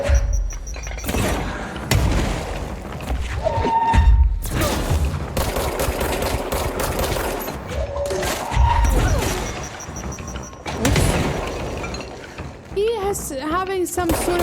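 Grenade blasts in the game Control: loud crashing booms and impacts over a busy mix of effects and gunfire, with a person's voice partly audible among them.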